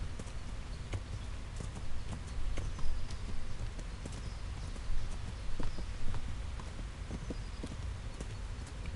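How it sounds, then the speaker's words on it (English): Horse hooves clip-clop steadily while riding through the medieval world of Kingdom Come: Deliverance, a continuous rhythmic trot of close footfalls with soft ambient background and no talk. "So it's kind of iffy riding that horse."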